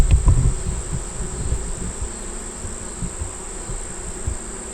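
Bees hum around an open hive with a frame being lifted out, a dense steady buzzing swarm close by, punctuated at the start by a few knocks and scrapes of the hive parts.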